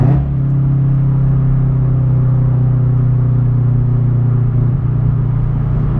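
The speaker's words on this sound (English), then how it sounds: "now I'm catching that 5 p.m. traffic now" A car drives in 5 p.m. traffic, heard from inside as a steady, loud low engine drone and road rumble with little change throughout.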